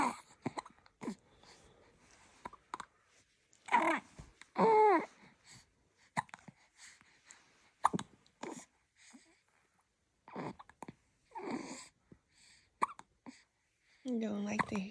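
A newborn baby girl hiccups and babbles in short bursts with small vocal sounds and pauses, while an adult talks softly nearby.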